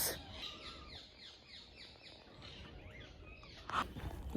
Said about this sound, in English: there were so many parakeets in that tree